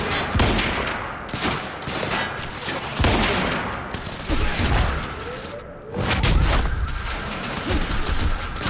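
Heavy shotgun blasts and rapid gunfire boom repeatedly in the video game Quantum Break, loud and close, with several thumping shots in an irregular rhythm and overlapping bursts.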